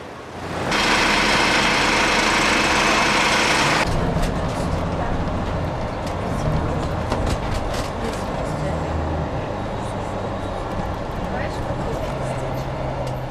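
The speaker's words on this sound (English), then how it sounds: "A top deck ride through the city to Tower Hill on RM 1933 completed our memorable 2-day Routemaster extravaganza." From the top deck of AEC Routemaster London bus RM 1933 riding through the city, the engine rumbles steadily and loudly throughout, with a brief harsher roar at the start.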